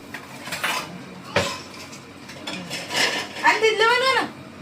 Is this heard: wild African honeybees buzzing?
no